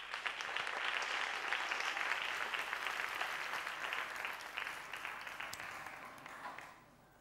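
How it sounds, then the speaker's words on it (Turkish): A studio audience at a contestants' performance competition applauds performers Elit and Kübra, loud sustained clapping that holds steady and then fades away at the end. "Alkışlarınız Elit ve Kübra için."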